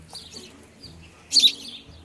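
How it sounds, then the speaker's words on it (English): A small rescued bird chirps softly, with a few faint high peeps and then one brighter, louder burst of chirping near the end, heard close in a quiet room. "That's a good name, Chirpy, because that's all it does is chirp"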